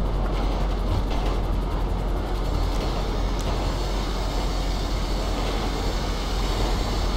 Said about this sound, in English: Said train will not stop.